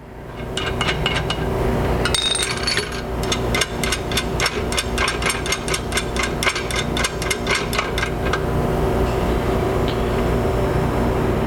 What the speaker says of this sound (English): We'll put a nut on there and tighten that up.